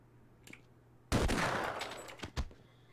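A single loud gunshot in Half-Life, a sudden close blast with a short rumbling decay, followed by a couple of faint sharp knocks in an otherwise quiet scene.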